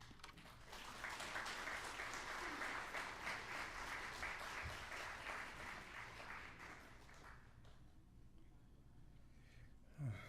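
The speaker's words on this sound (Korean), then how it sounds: "우리 김진수 장로님 나오실 때 큰 박수로 환영해 주시기 바랍니다" A church congregation at a Wednesday worship service applauds to welcome an elder to the front, a soft, steady clapping that fades out after about seven seconds, with faint murmuring beneath it.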